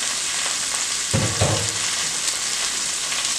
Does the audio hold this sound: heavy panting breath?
no